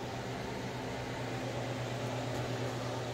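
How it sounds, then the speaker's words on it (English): A dehumidifier runs in a house basement laundry area near the furnace, giving a steady, even whir and hum with a low tonal drone that holds unchanged throughout, with no voices. "You got a dehumidifier running."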